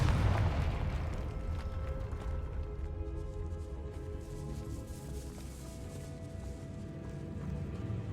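Confringo blasting spell in the video game Hogwarts Legacy, cast in a decayed catacomb, a heavy booming explosion that opens loudly and settles into a sustained low rumble with tonal game music layered over it.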